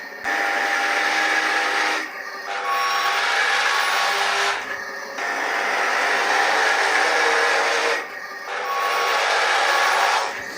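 Double E E591 radio-controlled Volvo A40G articulated hauler driving forward, its simulated engine a steady whining drone that dips briefly at intervals before resuming, close and loud with no talk.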